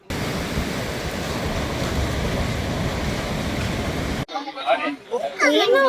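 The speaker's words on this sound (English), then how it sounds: "You know why it's so windy here?" Strong wind roars steadily with crashing surf beneath it at the seashore in Kanyakumari, India, then cuts off abruptly to quieter seaside ambience with birds.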